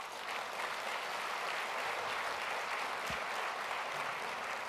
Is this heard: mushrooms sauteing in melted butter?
no